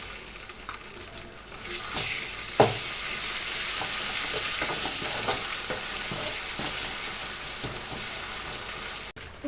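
Chicken pieces fry with ginger garlic paste in a pan, sizzling steadily and loudly up close while a utensil stirs and taps against the pan with scattered scraping knocks; nobody speaks.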